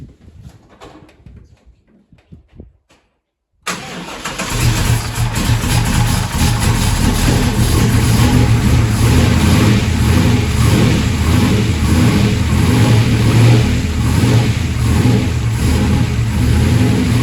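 A 1964 Chevelle with a 496ci V8 cold-starts in winter, firing abruptly out of near silence after a few faint clicks, then settling into a loud, steady, lumpy idle with a heavy low rumble that continues to the end.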